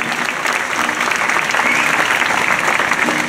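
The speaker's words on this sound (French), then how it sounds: "On applaudit Alexandra, talentueuse." A French audience applauds the performer Alexandra at a stage show, a loud, thick burst of clapping from many hands that swells slightly and carries on without voices.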